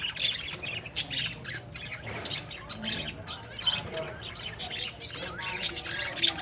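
Harsh, shrill squawks from a group of lovebirds, continuous and overlapping with chirps throughout, close and fairly loud.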